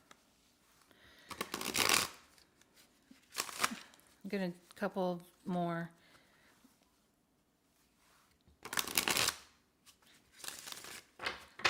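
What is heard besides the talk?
shuffling a deck of cards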